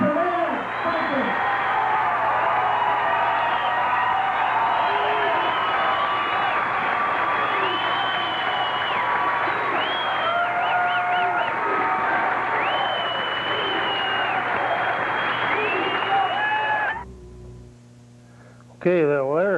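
A large crowd at a campaign rally cheers, whoops and applauds loudly and continuously after a political speech, then the roar cuts off abruptly and a voice follows.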